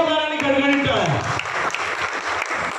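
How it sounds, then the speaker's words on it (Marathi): Loud, dense applause from a comedy reel competition audience cheering two contestants, with a sustained tonal music sting sliding down at the start and a voice faintly mixed in. "दोघांसाठी एकदा जोरदार आणि खणखणीत टाळ्या"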